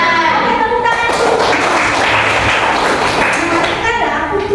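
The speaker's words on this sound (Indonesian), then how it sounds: "Oke, tepuk tangan dulu." Students in a classroom break into a dense burst of hand clapping, steady and close for several seconds, with voices mixed under the applause.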